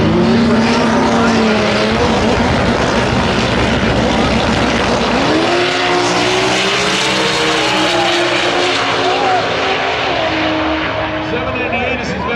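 A drag racing car at TX2K25 roars down the strip under hard acceleration, loud and close at first, then its engine note shifts and trails off as the driver lifts early; an announcer talks over the run throughout.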